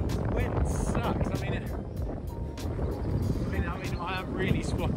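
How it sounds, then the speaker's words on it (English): Steady wind roars and buffets the microphone, with a dense, continuous low rumble throughout. "Wind sucks."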